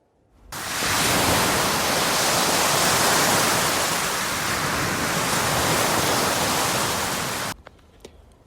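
Flowing water of the Jordan River, a dense steady rushing hiss that starts abruptly, holds loud and even for about seven seconds, then cuts off to near quiet with a few small clicks.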